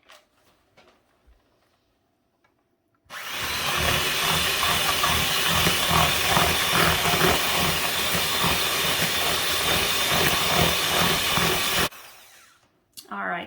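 Electric hand mixer whirring loudly through cookie dough in a big bowl, starting abruptly after a few quiet seconds and running steadily for about nine seconds before stopping, with faint handling noises around it.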